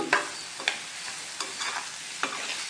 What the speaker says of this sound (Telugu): ఇప్పుడు ఈ ఎండి చేప ముక్కలు వేసుకోవాలండి వేసుకుని కొద్దిగా ఫ్రై చేసుకోవాలి ఒక రెండు నిమిషాలు